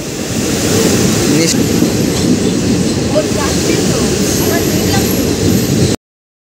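The 15721 Paharia Express rolls into Barsoi Junction, a loud, steady rumble of wheels and carriages running close by for several seconds before cutting off abruptly.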